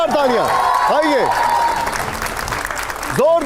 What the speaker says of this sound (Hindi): जोरदार तालियों से स्वागत करिए राज्यसभा सांसद राघव चड्ढा जी का